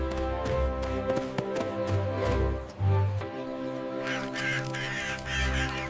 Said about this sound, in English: They're eating breadcrumbs.